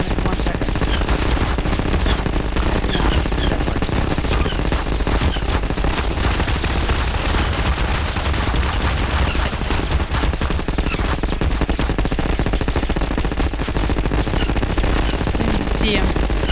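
Dense, nonstop automatic gunfire in Garry's Mod, several guns rattling at once in a loud, unbroken barrage that continues throughout, with a voice faintly present beneath the shooting.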